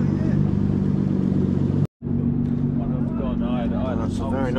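A Toyota Supra Mark IV with a loud aftermarket exhaust rumbles in arriving at a JDM car show at Santa Pod, its engine drone continuous apart from a brief cut, with someone talking over it.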